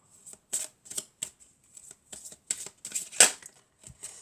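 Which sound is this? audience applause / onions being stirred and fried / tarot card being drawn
tarot card being drawn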